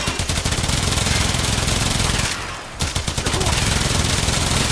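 Rapid Aksomati Prime fire in Warframe, dense bursts of automatic gunshots rattling continuously with a short pause mid-way before the shooting resumes.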